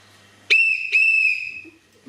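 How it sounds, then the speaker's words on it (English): Two sharp, shrill whistle blasts, the second held longer, ringing out clearly and loudly against near silence. "The whistle blows."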